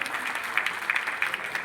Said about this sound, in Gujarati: તાળીઓ બધા વગાડીને